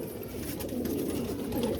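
A pigeon coos softly and continuously in a low, rolling murmur nearby, with no talking over it.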